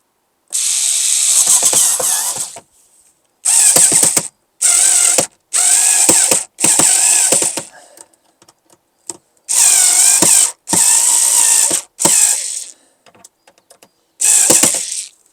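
A power tool drives a screw while a cab reading light is fitted, giving several bursts of ratcheting whir, each a second or two long, separated by short pauses, close and fairly loud.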